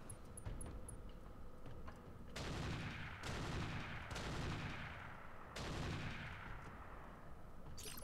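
Mech weapons in the RogueTech video game fire on multiple enemies, with four loud, sharp volleys of gunfire-like blasts at steady intervals, each trailing off in a rumbling decay over constant battle noise.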